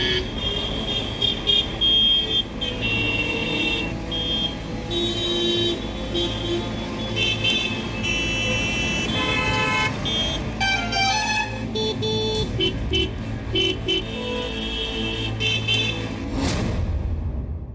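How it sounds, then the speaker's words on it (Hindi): Car horns honk repeatedly in dense road traffic, with short toots and longer blasts overlapping at close range above a constant rumble of engines and traffic noise, ending in one loud final horn burst. "आपके बेवजह बजते हॉर्न सुकून छीन रहे हैं।"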